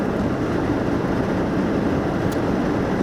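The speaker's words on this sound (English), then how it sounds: "Sorry about the noise of the car, but I've got the fans on just to clear the windows." Car ventilation fans run on a strong setting to clear fogged windows, a steady broadband rushing roar filling the cabin, constant and close throughout.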